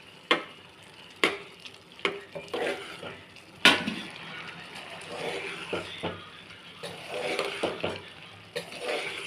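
A ladle scrapes and stirs tomato dal in a cooking pot over a medium flame, with irregular clinks against the metal and a soft simmering bubble underneath, close and fairly quiet, no voices.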